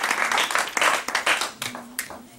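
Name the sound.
congregation applauding and acclaiming the Lord in church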